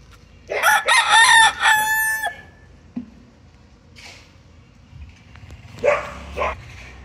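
Five-month-old McLean x Miner blue gamecock stags crow. A loud, close, drawn-out crow opens, and a shorter crow answers later, with faint yard noise between and no one speaking.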